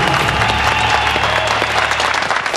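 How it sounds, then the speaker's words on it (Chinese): Studio audience at a televised magic talent show giving consoling applause, a loud, sustained sheet of clapping with faint background tones and no speech. "掌声还是给他安慰鼓励一下"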